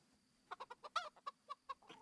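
Chickens in the game Kingdom Come: Deliverance give a quick run of soft, separate clucks, about ten short pulses over two seconds, faint against a quiet background.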